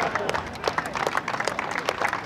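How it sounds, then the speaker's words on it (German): A live comedy show audience gives scattered, fairly light applause, a dense patter of claps filling the hall at moderate loudness without speech over it. "Da habe ich eigentlich ein bisschen mehr Applaus erwartet."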